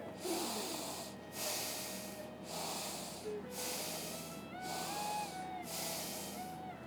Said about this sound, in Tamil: ஒரு மூன்று முறை மூச்சை உள்ளெழுத்து மூச்சை வெளியே விடுங்க